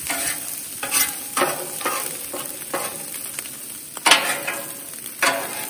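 Fried rice and vegetables sizzle steadily on a Blackstone griddle, cooked hibachi style, with a spatula scraping and stirring in repeated bursts at close range.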